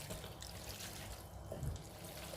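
Soft, continuous liquid sloshing and bubbling from a full pot of boiling spaghetti being stirred, quiet and close, with no voices.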